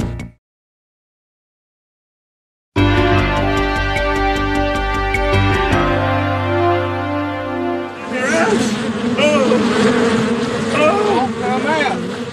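A dense swarm of bees buzzing loudly and continuously after a brief silence, with a steady droning hum filling the sound and swelling into a busier, more agitated buzz toward the end.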